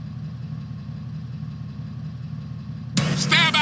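A car engine in the video game GTA San Andreas drones steadily at low pitch for about three seconds, with a voice breaking in near the end.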